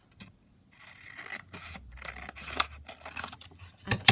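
Scissors trim the end off a piece of paper in a close, quiet series of snips and soft crinkles, growing slightly louder toward the end, with no talking.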